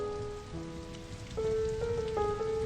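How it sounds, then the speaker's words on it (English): Driving rain falls steadily in a continuous close wash, with a sustained musical drone running underneath and no voices. "The next day, Napoleon came to see her in the driving rain."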